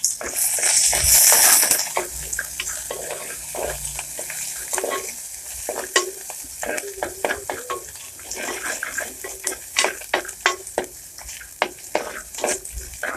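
Red onions fry in oil for a pork pepper thiyal, a loud sizzle at first settling into bubbling crackle with frequent sharp spatters and scraping stirs, close up with no talk.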